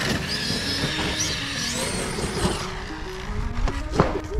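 Two Arrma Kraton EXB and Outcast EXB 1/5-scale RC cars drag race, a continuous high electric motor whine rising and falling in pitch with tire and road noise, loud and steady throughout.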